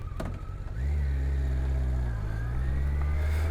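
A 2002 Honda CBR1100XX Super Blackbird motorcycle on its stock exhaust settles into a steady, deep idle after a brief rise in revs. The engine is close, loud and alone.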